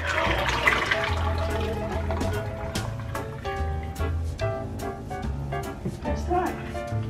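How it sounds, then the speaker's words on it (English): Thick soap batter pours from a container into a jug with a spout, giving a steady liquid pouring and splashing sound close by, with a person talking over it. "I'm gonna pour this in this jug because it's got a spout on it."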